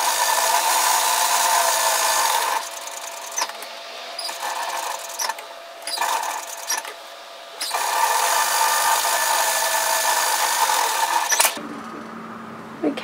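A sewing machine top stitches an apron dress strap at a 5 mm presser-foot width, buzzing steadily up close in several runs separated by short pauses, then stopping at the end. No one speaks.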